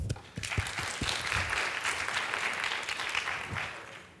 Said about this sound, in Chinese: 好，让我们掌声来欢迎台湾路更平专案